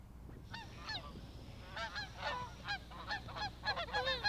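Geese honk over a cornfield in repeated overlapping calls that build in number and pace, fairly distant, over a low rumble of wind or background noise.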